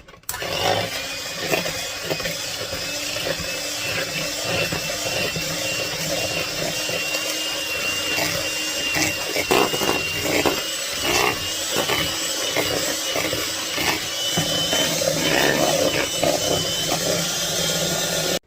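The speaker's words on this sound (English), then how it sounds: "Now we're going to mix that together till it's fluffy." An electric mixer beats chocolate chip cookie bar batter in one continuous, close motor whir that runs steadily throughout with slight wobbles in pitch.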